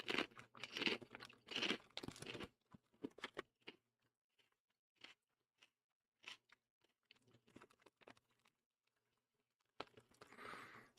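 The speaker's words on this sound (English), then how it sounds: "These are crunchy." Loud, close crunching bites of crisp ridged Ruffles potato chips, several sharp crunches at first, then quieter intermittent chewing with pauses, ending in another burst of crunching.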